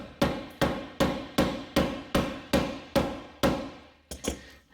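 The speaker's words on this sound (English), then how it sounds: "Maybe we can crack this open in half, hit it with a hammer." A hammer strikes a GM canister vent valve to crack it open, about nine loud, evenly spaced metallic blows, each ringing briefly, ending with a couple of quicker hits.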